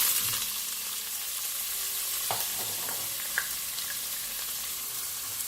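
Onions and chili sizzle in hot oil in a pan for an egusi sauce, a bright steady frying hiss with occasional stirring clinks and pops, close and without voices.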